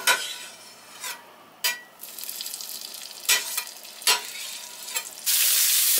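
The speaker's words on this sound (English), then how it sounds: "bumping the pan up a little bit back to a little higher temperature. And we're going to throw in some more of the magic butter." Butter sizzles in a hot frying pan while a utensil stirs and clinks against the pan, giving a steady close fry broken by a few sharp scrapes and rising to a louder hiss at the end.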